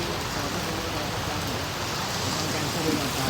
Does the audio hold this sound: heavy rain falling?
yes